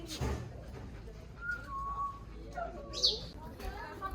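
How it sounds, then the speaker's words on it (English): Birds call and whistle in a zoo bird sanctuary in Zurich, with short tonal whistles and a brighter chirp amid a busy outdoor hum, while people talk nearby. "We're in like a bird sanctuary right now."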